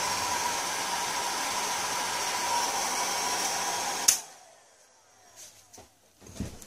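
Hot air rework station blowing on a motherboard BIOS chip at close range, a steady loud rushing hiss lasting about four seconds before cutting off abruptly, followed by faint handling clicks.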